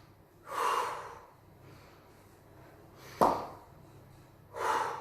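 Forceful exercise breaths during kettlebell squats: three strong exhales spaced a couple of seconds apart, close and fairly loud, with a sharp snort-like intake between them.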